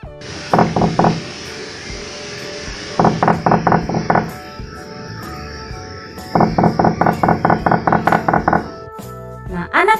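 Three bursts of knocking on a door, each a quick series of sharp raps, the last burst longest, with a faint background hum between.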